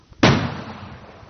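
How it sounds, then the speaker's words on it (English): One sharp, loud bang followed by a long echoing decay, like a gunshot fired some distance away. "As he looked, he heard gunfire."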